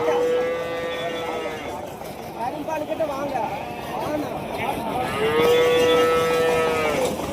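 Buffalo and cattle calves at a weekly cattle market in Kundadam call out with long, loud moos, one at the start and another near the end, over a busy crowd murmur and people talking nearby.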